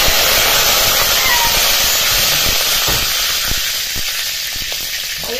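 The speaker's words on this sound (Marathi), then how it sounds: "फोडणी चांगली तडतडली की याच्यामध्ये कढीपत्ता घालायचा" Curry leaves crackling in hot oil during a tadka of mustard seeds and cumin for a fresh green pea curry, a steady loud sizzle and hiss that eases slightly toward the end with a few sharp pops.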